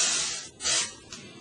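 Cooking spray hissing onto a 9-inch baking pan in two bursts, a longer spray, a brief pause, then a second spray with a short tail, close and clear.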